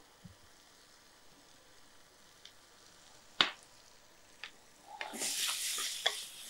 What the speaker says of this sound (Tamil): இதை ஒரு 2 நிமிஷம் அந்த தக்காளி நல்லா மேஷ் ஆகிற வரைக்கும் நம்ம வதக்கி எடுத்துக்கலாம்